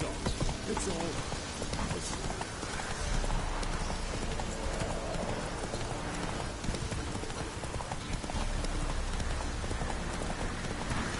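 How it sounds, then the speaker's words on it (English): Horse hooves clip-clop steadily on the ground in The Witcher 3, a rhythmic run of close hoofbeats under a dense bed of game noise, with rain-like hiss. "Whoa there, Roach."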